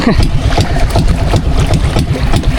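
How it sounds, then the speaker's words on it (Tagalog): A small boat engine idles loud and close, a steady low rumbling putter throughout with faint voices underneath. "binira ko po muna yung makina ni Papa dahil hindi na naman mabira"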